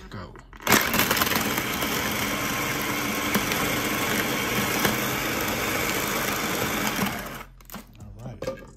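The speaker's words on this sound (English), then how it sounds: "This is a food processor. So I'm gonna be spinning it." A food processor spins frozen strawberries into vegan ice cream, a steady loud motor whir running for about seven seconds before cutting off, followed by brief quieter handling noise.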